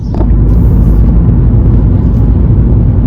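An Abarth Turismo, a recovered Cat S write-off, driven along with a loud, steady low engine and road rumble that fills the whole stretch, heard from inside the car with no voices.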